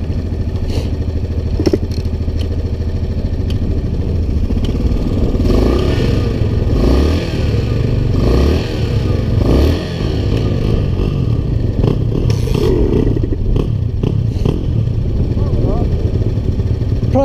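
Motorcycle engine running with the choke on, a steady low rumble with clattering and brief revs throughout, while people talk over it nearby.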